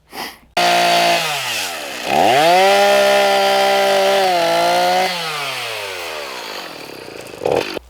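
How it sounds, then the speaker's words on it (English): A chainsaw revs up loudly nearby, holds a steady high-pitched whine while cutting wood from a demolished old barn, then winds down and idles. "Looks like my chainsaw is out of bar oil"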